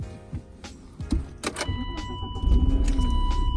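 A BMW 318ti starts off, with a short mechanical clunk and a rising engine rumble that settles into a steady low drone. It is close and heard from inside the car, with no talk.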